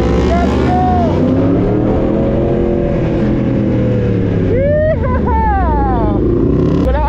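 Big bike motorcycles rev loudly and close at a night hangout, with sustained engine drone and rising, falling throttle blips stacking over one another, and a voice faintly underneath.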